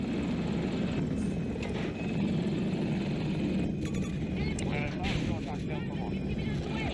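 Enemy Nightbird helicopter in the Battlefield 2042 video game, its rotor and engine noise blended into dense, continuous battle sounds, with a player talking over it throughout.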